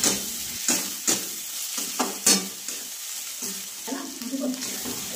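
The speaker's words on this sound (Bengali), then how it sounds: "এবার মশলাটাকে ভালো করে নেড়ে নেব।" Masala for chicken curry with potatoes being stirred in a frying pan, a spoon scraping and clacking in repeated strokes over a soft, steady sizzle, close up.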